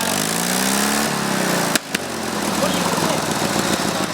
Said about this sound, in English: we'll put the lawnmowers, the stock lawnmowers, mod mowers